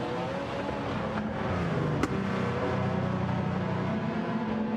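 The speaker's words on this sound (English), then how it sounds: "It's still got a good sound, despite having the turbos put on it." Turbocharged race car engine in the Gran Turismo 7 driving game, a steady, full-bodied drone held at constant revs with a brief click near the middle, loud and alone without voices.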